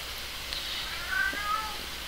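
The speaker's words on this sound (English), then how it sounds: "That was my cat in the background." A house cat meows softly in the background, a faint drawn-out call or two sitting under steady broadband room hiss and game audio.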